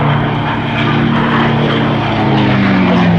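A Rolls-Royce-engined Mustang propeller aircraft flies over the Duxford summer air show, its loud, continuous engine drone droning steadily with a slowly shifting pitch, no voices.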